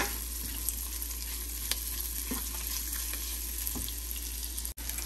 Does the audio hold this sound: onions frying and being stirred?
yes